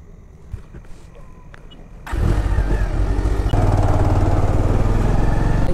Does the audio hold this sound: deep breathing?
no